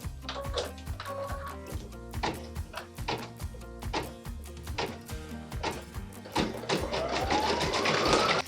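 An embroidery machine stitching a design, a steady rapid mechanical clatter of needle strokes with a regular pulsing rhythm, joined near the end by a rising whine as the motor speeds up.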